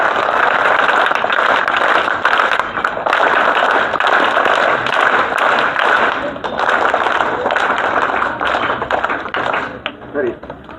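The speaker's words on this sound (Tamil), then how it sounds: "எல்லாரும் பாரிய அளவு ஒரு கரகோஷத்தின் மூலமாக அவங்களுக்கு நன்றிகளை பாராட்டுகளை" A school audience gives a long, loud round of dense applause to thank guests at an event in Badulla, Sri Lanka, with a voice speaking over part of it before it fades.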